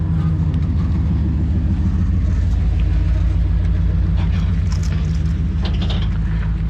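A heavy truck, loaded with something weighty in the back, passes with a deep, loud, continuous engine rumble and drone that stays close and constant, with a few faint clinks over the top.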